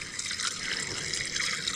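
A gallon of water being poured into a long-parked Pontiac Trans Am, heard as a steady, fairly quiet splashing trickle that runs unbroken throughout.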